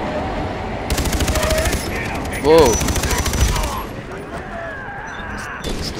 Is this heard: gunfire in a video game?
yes